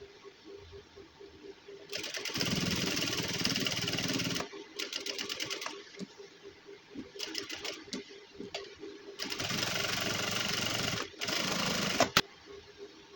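A sewing machine stitching the edge of a gents suit runs in several bursts of fast rattling needle noise, with pauses between runs, close and fairly loud.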